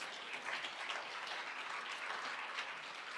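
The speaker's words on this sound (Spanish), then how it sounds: "¿No le puedes dar un fuerte aplauso a Dios por esa promesa?" Church congregation applause, a steady, even wash of many hands clapping together, moderately distant and unbroken for a few seconds.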